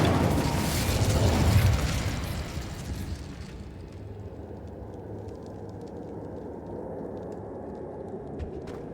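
A fire spell is cast in Hogwarts Legacy: a loud whooshing, rumbling burst of flame at the start that fades over a few seconds into a low, steady crackle and hum.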